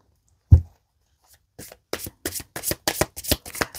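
A deck of oracle cards being shuffled by hand: one soft thump, then a run of quick riffling card flicks, close and clear in a quiet room.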